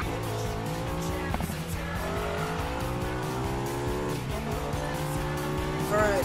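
A car driving fast in Need for Speed Payback, a high revving engine climbing through gears with repeated rising whines and brief shifts, loud and close, with tire squeal mixed in.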